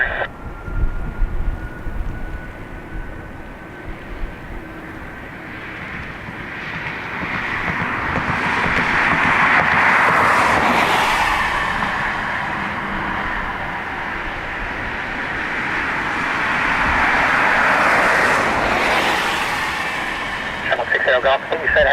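Icelandair Boeing 757 at Dublin Airport, a jet roar swelling and fading twice as aircraft pass at a distance, with air traffic control radio chatter heard over the top.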